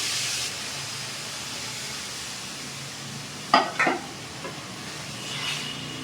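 Semolina cooking in milk for ravva payasam is stirred in a pan: a few short scraping strokes come in the middle against a soft, steady simmering hiss, with no talking.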